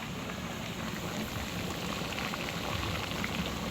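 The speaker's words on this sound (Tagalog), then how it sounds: "At nakulo na po yung ating pong nilulutong kaldereta." Kaldereta stew with carrots and potatoes boiling in a pot, a steady dense bubbling and simmering hiss that continues evenly throughout with no talking.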